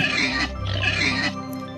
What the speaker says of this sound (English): A baby pig is called a piglet.